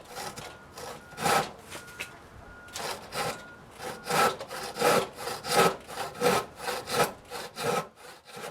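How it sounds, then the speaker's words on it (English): A hand saw cuts a shallow kerf in a wooden piece for a Roman bench, rhythmic rasping strokes back and forth, about a dozen in a steady push-pull pattern, close and clear with no talk. "What I'm attempting to do is use the saw to create a kerf, which is a shallow saw cut, to better help me stay on the line"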